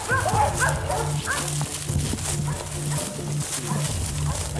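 Bay dogs bark repeatedly during a hunt, a run of sharp, overlapping barks at mid distance over a steady low hum and rustling movement, with people talking now and then.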